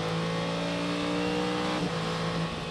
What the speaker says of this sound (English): the number 48 car and it sounds reasonable enough from the onboard microphone